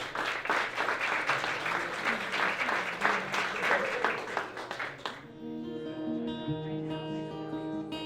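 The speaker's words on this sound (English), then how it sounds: "let's give him a round of applause" Audience applause at a film fundraiser, a dense patter of clapping for about five seconds that then gives way to tonal music as the clapping fades out.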